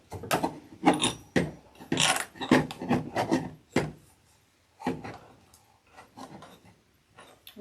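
Metal nut and washer being screwed down by hand onto a hummingbird feeder guard, giving a series of close, short scraping and clicking bursts in irregular rhythm with brief pauses, no talking.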